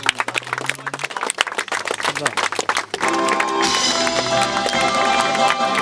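An audience at an awards ceremony claps for a winner; scattered close claps over a running voice, then swelling into dense, sustained applause mixed with music for the last few seconds.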